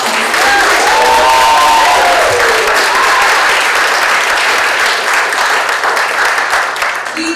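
An audience at an end-of-year student creative writing event gives the students a round of applause, loud, dense clapping mixed with some cheering that holds steady throughout.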